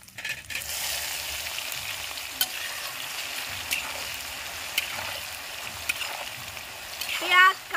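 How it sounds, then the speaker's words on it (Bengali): Onion, curry leaves and cumin fry in a pan with a steady sizzle, broken by a few scattered clinks of a stirring spoon and a brief scrape near the end. "পেঁয়াজ, কারি পাতা আর জিরা এগুলোকে সুন্দর করে ফ্রাই করে নেব।"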